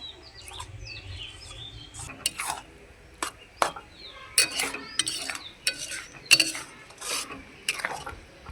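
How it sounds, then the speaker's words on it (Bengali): Coconut being stirred in a pan with a spatula while making sweet coconut balls: soft, irregular scraping and light metallic clinks in bursts, fairly close, with faint bird chirps in the background and no talking. "অনবরত এইভাবে কুচি দিয়ে আমি নাড়াচাড়া করব।"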